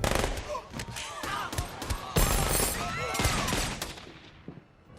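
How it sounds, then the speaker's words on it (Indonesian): Rapid bursts of gunfire in a film shootout between hotel security and an attacker, dense and loud, the shots crackling over each other throughout with other scene sounds mixed in and tapering off at the end. "Beberapa security hotel kemudian muncul dan terjadilah aksi saling tembak."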